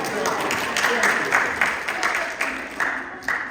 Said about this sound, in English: I should have waited for applause